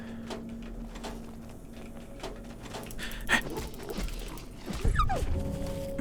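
A dog makes short yips and panting noises amid low indoor rumbles and thumps, the sounds brief and scattered with a louder burst near the end.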